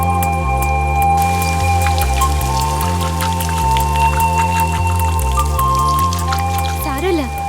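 Rain falls steadily with a soft pattering hiss under a tonal, musical backdrop, and voices are heard briefly.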